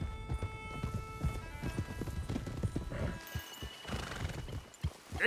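Horses in the video game Red Dead Redemption 2 whinny and neigh over steady clip-clopping hooves during a frantic ride, loud and close, with a rider urging them on.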